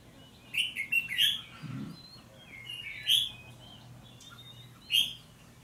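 A wild-caught red-whiskered bulbul, caged 20 days, sings clear, ringing whistled phrases in short bursts with pauses between, close by against a low steady background.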